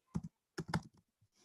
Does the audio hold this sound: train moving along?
no